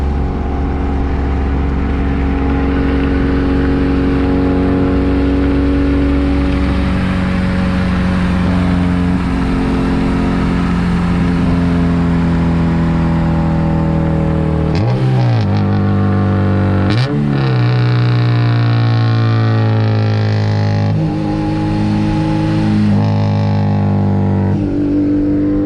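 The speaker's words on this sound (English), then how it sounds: "That is how loud the car is." A 1992 Honda Civic CX running race gas revs loudly and continuously, its engine note rising and falling through repeated throttle sweeps, with sharp blips near the end, heard up close with no talk.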